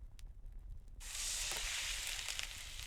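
Meat frying in a pan in the cooking game Cucina Stellata: after a second of near quiet, a steady bright sizzle starts abruptly and holds to the end, fairly soft and with no voices.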